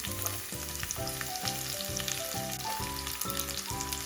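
Steady crackling sizzle of onions frying in hot oil, continuous and close, with a repeating low rhythmic hum running underneath.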